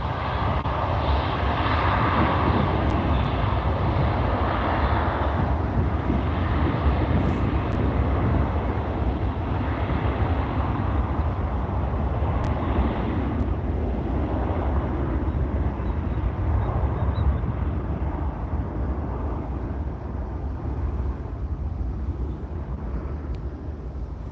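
Aircraft landing on the runway at Salt Lake City Airport, a continuous loud jet engine roar with broad rumbling noise that holds steady throughout and eases slightly toward the end, with no talking.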